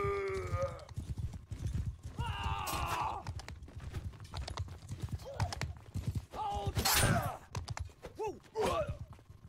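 Horse hooves clip-clop steadily across ground in the medieval battle game Mount & Blade II: Bannerlord multiplayer, mixed with clashing combat noise, shouted voices and grunts, with a loud burst of battle clamor midway.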